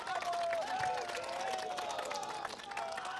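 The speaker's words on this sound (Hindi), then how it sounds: "आरएलएसपी की तरफ से तालियों के साथ इनका भी स्वागत कीजिए।" An audience at a televised political debate in Jamui claps and cheers to welcome an RLSP general secretary, a sustained crowd roar of applause with a voice carrying over it.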